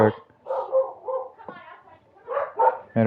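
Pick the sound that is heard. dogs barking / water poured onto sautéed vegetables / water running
dogs barking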